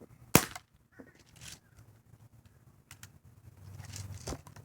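A Daisy 74 CO2-powered air pistol, lightly modified with a polished valve stem head and barrel stabilizer, fires a single sharp, loud pop near the start, followed by quieter handling noises.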